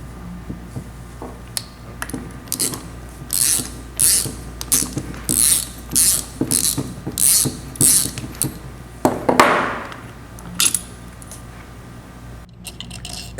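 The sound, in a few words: impulse coupling puller being installed and tightened on magneto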